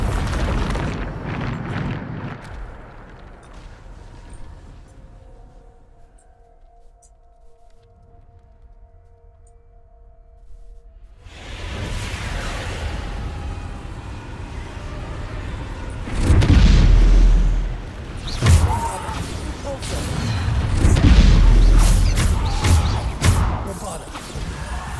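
Bombarda explosion spell cast in the game Hogwarts Legacy, a deep rumbling boom that swells after a quiet stretch with a faint tone, followed by heavy low blasts and crackling debris, loud and close.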